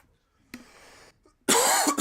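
Two bursts of coughing from a streamer at a microphone: a shorter, softer hack first, then a louder, rougher cough with a brief catch in the middle, separated by near silence.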